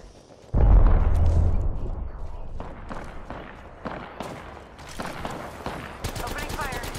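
Gunfire in the video game Apex Legends opens with a heavy boom, followed by a string of sharp shots and bursts of varying loudness in a busy combat scene.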